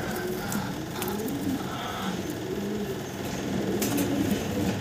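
An imported breeding pair of fancy pigeons gives soft, low, repeated cooing that rises and falls steadily beneath a constant background hum, with no one talking.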